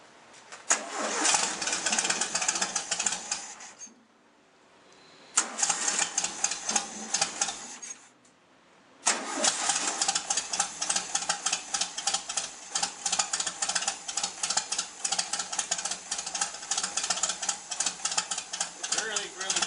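A 1974 VW Beetle engine, unrun for about a month, is being started in freezing cold weather. It cranks in two short bursts, then catches and runs steadily with a loud, rattly, sputtering idle.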